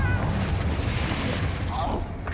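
A Confringo blasting spell explodes during a Hogwarts Legacy duel, a dense, rumbling burst of booming battle noise with voices mixed in.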